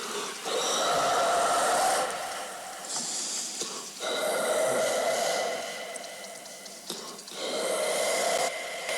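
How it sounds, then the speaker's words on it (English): Human breathing heavily processed with a compressor and sidechained delay and reverb, made for a scenecore beat: repeated airy inhale and exhale swells with smeared, echoing tails, close and fairly quiet. "Just try to make your breathing sound cool, listen."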